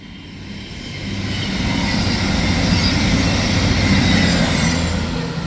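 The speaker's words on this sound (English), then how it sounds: "we're gonna have a cross-country Voyager passing through from Paignton to Manchester Piccadilly" A CrossCountry Voyager diesel unit passes through Heaton Chapel on the Manchester branch, a loud rumbling drone of engine and wheels that rises as it nears and stays strong, with no voices.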